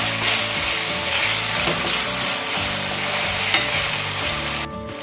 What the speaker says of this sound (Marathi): आता हे हिरवं वाटण आपण यामध्ये घालूया त्याचा कच्चेपणा जायपर्यंत आपण कच्चे करतो